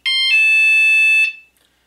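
A motion-activated auto dialer set to alarm mode sounds a loud, piercing electronic tone for just over a second, then cuts off abruptly, alone and close.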